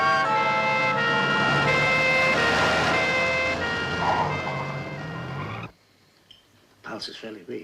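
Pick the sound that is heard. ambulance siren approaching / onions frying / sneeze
ambulance siren approaching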